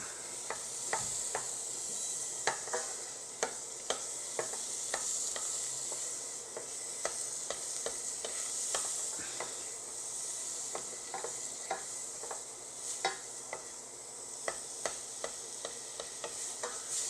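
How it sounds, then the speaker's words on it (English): Butter melts in a preheated pan with a soft, steady sizzle and scattered small crackles and pops, fairly quiet and without voices. "I'm going to start by preheating a pan and putting 15 milliliters or a tablespoon of butter in it."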